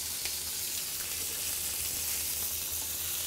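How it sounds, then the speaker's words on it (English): Ribeye steaks sear in a hot pan, a steady loud hiss and crackle of sizzling fat running unbroken from start to end, close by with no talking. "we're just gonna sear these for about a good 30 seconds on both sides"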